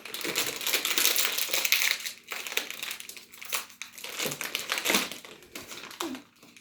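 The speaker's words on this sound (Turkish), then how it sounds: "Açıyoruz şimdi paketimizi." Close, loud crinkling and crushing of a plastic jelly candy package being opened, an irregular run of crackling bursts and rustles with brief pauses, no talking.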